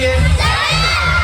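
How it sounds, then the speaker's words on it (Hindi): A crowd of children in a reptile show audience shouts an answer together in one loud, sustained burst of voices. "आप सब एक साथ मुझे चिल्ला के आंसर देने वाले हैं कि वो कौन सा जानवर है।"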